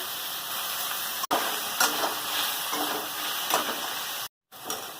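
Dudhman leaves and spices sizzle steadily in a hot pan as they are stirred, giving a continuous close hiss with a few scraping accents and a brief dropout near the end.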